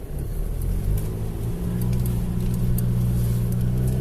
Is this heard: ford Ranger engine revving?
yes